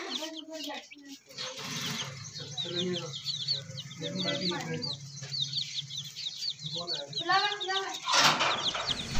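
A hen and her baby chicks cluck and cheep in a farmyard, with a run of repeated high peeps and soft clucks while someone talks over them up close.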